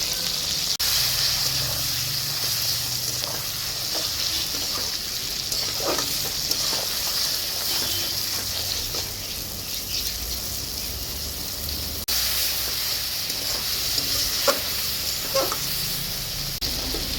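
Ridge gourd pieces fry in hot oil with a loud, continuous sizzle, broken by occasional soft stirring scrapes and clicks.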